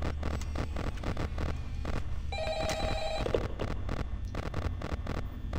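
A telephone rings briefly in Five Nights at Freddy's on PS4, a short electronic trill that rises above a steady droning game ambience and fades within about a second.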